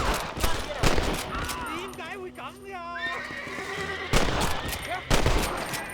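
Gunshots crack sharply in the Western video game Red Dead Redemption, a few loud bursts framing a stretch where a horse whinnies and people talk.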